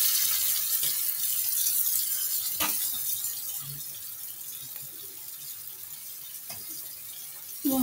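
Water runs steadily from a tap as hair is wetted, a soft continuous hiss with a few faint clicks and knocks, near and alone without talk.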